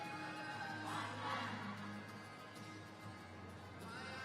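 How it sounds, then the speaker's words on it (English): Crowd in the stands at the World Jump Rope Championships cheering and murmuring steadily, a broad continuous roar that swells briefly near the start and holds at a moderate, distant level throughout. "And the crowd already getting into it."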